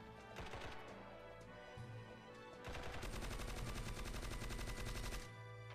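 Rapid gunfire from a zero-recoil loadout in a video game shootout, with bursts of sharp automatic shots and a longer sustained volley near the end over game background sound.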